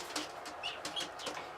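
Jan Aarden racing pigeons in a loft make soft, faint cooing and fluttery rustling, with a few brief higher chirps over a quiet background.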